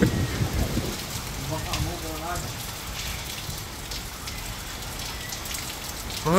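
Heavy rain from Typhoon Paolo pours steadily in a dense hiss with distant thunder rumbling, while voices speak intermittently beneath the downpour.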